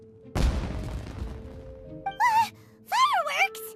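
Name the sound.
fireworks exploding in the Genshin Impact video game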